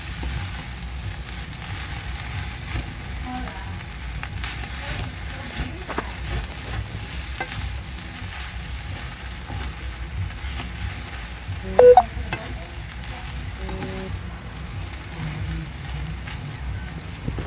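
Spinach is stirred into jerk chicken fried rice in a pot, with a steady low sizzle and soft scraping stir sounds running throughout and a brief louder clank partway through.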